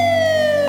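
An ambulance siren gives a loud, close, sustained wailing tone that slides slowly downward in pitch across a brief moment.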